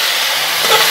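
Prawn preparation being poured into rice in a hot pot for prawn pulao gives a steady, loud sizzle with stirring and steam throughout, swelling slightly near the end.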